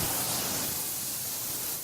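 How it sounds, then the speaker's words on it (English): Graffiti cleanup crews blasting walls with a steady, loud hiss of high-pressure spray, unbroken and close, with no voices. "That's the sound of graffiti crews hard at work cleaning up someone else's mess."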